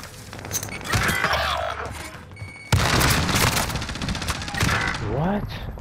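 Rapid bursts of automatic and single-shot gunfire with booms in a Call of Duty: Modern Warfare match, loud and continuous, with a sharp jump in intensity partway through, while players talk over it.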